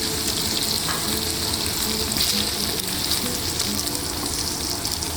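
Paneer fries lightly in a pan with an even, continuous sizzle and soft stirring noises, heard close and alone.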